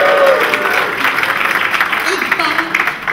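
An awards-gala audience bursts into loud applause and cheering, dense clapping that swells at the start and then slowly thins, with a presenter's voice carrying over it.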